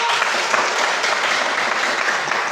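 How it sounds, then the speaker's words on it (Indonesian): Loud, dense applause from a crowd, sustained and even throughout with no pauses. "kita tepuk tangan"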